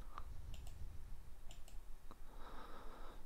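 A few sharp, faint mouse clicks in quick pairs at a computer while working in LibreOffice, isolated ticks over quiet room noise with no talking.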